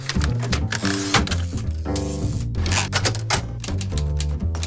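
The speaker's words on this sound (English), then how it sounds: "They're also typewriters, but they are machines." A mechanical typewriter clacks continuously in fast, uneven bursts of key strikes, loud and close, with bell-like tones and carriage noises mixed in and no talk.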